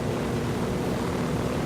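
Helicopter in Ghost Recon Wildlands, a steady, loud, dense engine and rotor roar filling the whole stretch without a break and with no talking.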